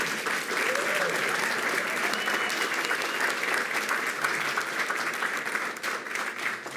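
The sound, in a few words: audience applause for top elementary readers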